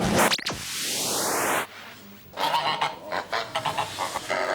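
Geese honk loudly up close, a burst of harsh honks followed by a sweeping whoosh, then a run of shorter honks and calls in quick succession.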